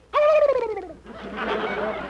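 A short, loud turkey gobble with a warbling, descending tone, followed by a softer rough burbling noise, heard close and alone.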